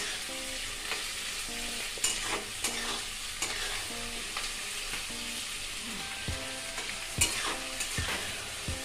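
Onion and capsicum fry in a pan, a steady sizzle broken by repeated scraping stirs and light knocks of a spoon against the metal, close and continuous with no voices.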